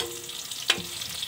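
Garlic sizzles in a pan alongside pork steak, a steady soft frying hiss with one brief sharper crackle partway through, close by and without speech.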